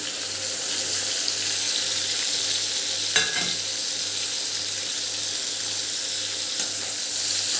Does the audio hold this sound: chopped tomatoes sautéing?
yes